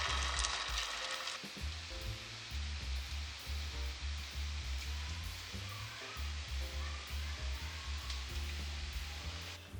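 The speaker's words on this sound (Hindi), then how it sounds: "हम दूसरे भी फ्राई कर लेते हैं।" Chicken shami kababs frying in hot oil in a pan, a steady loud sizzle with crackling and a low bubbling hum throughout, close up and with no talking.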